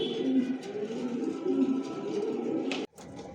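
Adult Johnson line racing pigeons coo in low, rolling, repeated phrases close by, several birds overlapping against a faint background hum, with a brief sharp knock near the end.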